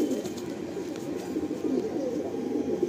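Pigeons at a pigeon sale in Park Circus, Kolkata, giving soft repeated low coos close by over a faint murmur of background noise.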